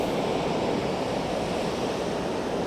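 Small, low ocean waves break along the shore at Apollo Bay on the Great Ocean Road, making a soft, steady wash of surf with light wind and no voices.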